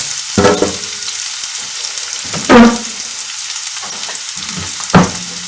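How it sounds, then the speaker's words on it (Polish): Continuous hot-pan sizzle with three sharp surges of hissing as chopped onion hits the oil and is stirred, close and loud. "Na rozgrzaną patelnię wrzucamy posiekaną cebulę."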